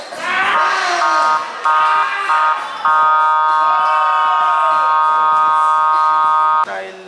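A loud electronic game buzzer sounds at a basketball game, blaring in several sustained bursts, the last lasting several seconds, with crowd noise and voices around it.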